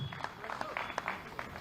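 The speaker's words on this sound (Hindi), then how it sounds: "अगर खुश हो रेखा के मुख्यमंत्री बनने से तो एक बार जोरदार तालियां आदरणीय राज जी के साथ" Light scattered clapping from a political rally crowd celebrating a new chief minister, uneven and fairly faint, with a few sharper claps standing out over a low murmur.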